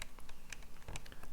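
Soft, irregular clicks of keys being pressed, several quick taps close by in a quiet room.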